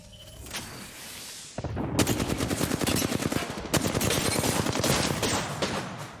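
Gunfire in a shooter video game: a rising whine, then dense rapid automatic bursts of shots rattling on for several seconds, loud and close, with no talk.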